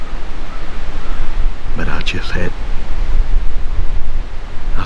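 Strong, gusting wind outdoors during a hunt roars continuously into the microphone as loud broadband buffeting, with a brief voice cutting through midway.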